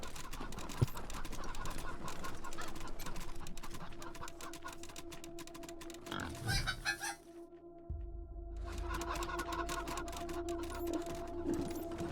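Chickens in the video game Wasteland 3 cluck and crow amid a steady, busy background din, with a brief quieter gap before the noise returns.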